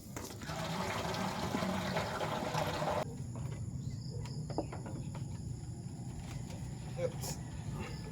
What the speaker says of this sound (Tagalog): Tapos lagyan natin tubig.